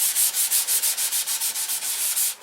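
Excess primer being sanded off a P47 model aircraft before painting: a rapid, steady back-and-forth rasp of about a dozen even strokes, close and fairly loud, with no talking.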